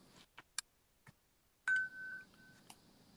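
A few faint clicks and taps, then a clear electronic beep tone sounds once, followed by a shorter repeat in an otherwise quiet room.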